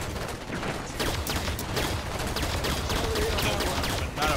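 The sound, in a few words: gunfire from enemy soldier, Halo video game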